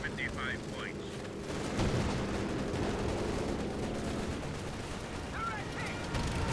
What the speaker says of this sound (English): Black half track still firing away